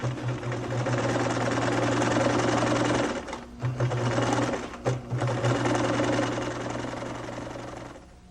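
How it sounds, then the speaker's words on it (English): A sewing machine stitches a 1/4 inch seam on quilt strips, whirring loud and close with a steady hum. It pauses briefly twice, then runs on. "I'm going to stitch along with an accurate 1/4 inch seam allowance."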